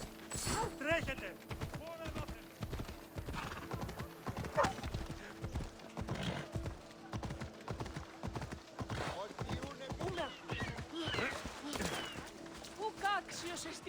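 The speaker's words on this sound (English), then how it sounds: "That's a nice horse, Socrates." Galloping horse hooves in Assassin's Creed Odyssey, a steady rhythmic clip-clop that runs throughout under in-game speech, with an occasional whinny and creaking tack.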